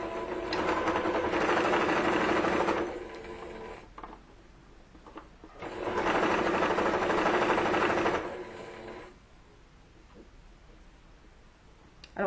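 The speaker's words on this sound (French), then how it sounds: "Je viens faire ma couture." Sewing machine stitching fabric for a ruffled dress, two steady bursts of a few seconds each separated by pauses, close and fairly loud with a whirring hum and no talk.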